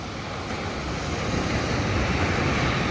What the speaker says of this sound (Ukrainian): Хвилі бушують.